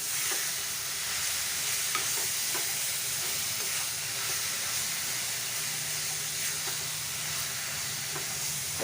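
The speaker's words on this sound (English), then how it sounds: "Mutton keema or mutton mince. Toss it up really well." Mutton keema mince sizzles and hisses steadily in a hot pan with fenugreek leaves and sweet onions, while soft scraping taps of stirring come through at a close, even level.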